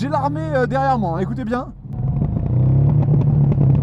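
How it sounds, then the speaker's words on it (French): A Ducati Hypermotard SP motorcycle fitted with an MIV exhaust rumbles and crackles close by, its engine noise rising after someone speaks briefly and growing steadily louder toward the end. "il y a un petit échappement MIV qui est installé, qui fait des retours"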